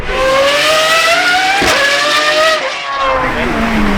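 A Lexus LFA concept supercar drives past at the Goodwood Festival of Speed, its engine note rising and falling in loud sweeping tones with a brief sharp shift partway through, close to the listener, with voices talking over it.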